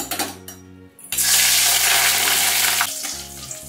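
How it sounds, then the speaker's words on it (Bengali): Whole spices tempering in hot oil in a kadai for a light Bengali country-chicken curry, a loud broadband sizzle erupting after a second and holding steady, then easing slightly near the end, with no talk. "প্রথমে আমি তেলের মধ্যে ফোড়নটা দিয়ে দিচ্ছি।"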